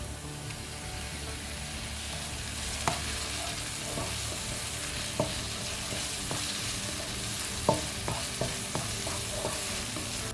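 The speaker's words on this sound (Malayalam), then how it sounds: "നമുക്ക് ഈ അരിഞ്ഞ് വെച്ചിരിക്കുന്ന തക്കാളി ഇതിലോട്ട് ചേർത്ത് കൊടുക്കാം." Chopped tomatoes and onions fry in a pan with a soft continuous sizzle, punctuated by several sharp spatula taps and stirring scrapes close by.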